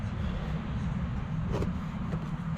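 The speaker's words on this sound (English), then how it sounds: "Man, I hate traffic on the road." Low, steady rumble of road traffic passing in the background near a rural off-grid garden, where delivery vans and gravel trucks use the road; a continuous distant drone with a couple of faint swells and no voices.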